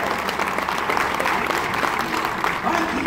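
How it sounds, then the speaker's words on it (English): A room full of people at a comedy barn show applauds steadily for a group of kids, a thick, even wash of clapping with no break. "Give these kids another round of applause"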